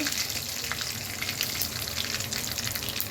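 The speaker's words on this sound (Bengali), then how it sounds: "কালো জিরে ফোড়ন দিচ্ছি" Nigella seeds temper in hot oil in a pan, giving a dense, even sizzle and fine crackle that stays loud and close for a few seconds with no speech.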